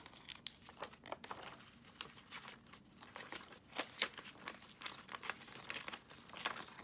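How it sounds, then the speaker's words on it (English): Vellum paper being torn by hand, with a run of crisp, crinkly rips and rustles in irregular bursts, close and fairly quiet. "I was tearing the vellum"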